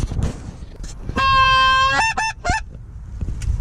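Geese honking during a goose hunt, a burst of loud, nasal honks lasting about a second followed by a few shorter calls, over low wind rumble outdoors.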